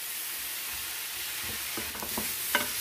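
Vegetables with thyme or ground coriander frying in a pan, a soft steady sizzle joined by several scraping stirs and a light clink near the end.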